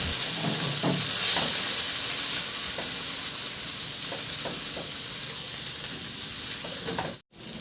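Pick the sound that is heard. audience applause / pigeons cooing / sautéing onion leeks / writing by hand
sautéing onion leeks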